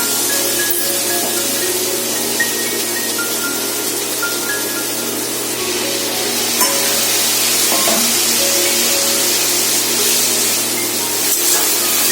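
Ginger, cumin, green chilli and tomato frying in oil for vegetarian dalia, a steady loud sizzle throughout with occasional stirring scrapes, close up and uninterrupted.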